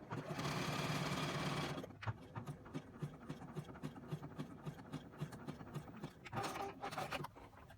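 Sewing machine zigzag stitching canvas drop cloth tote straps, with a loud continuous run at the start, then a stretch of rapid rhythmic needle thumps, and another sustained burst of stitching near the end.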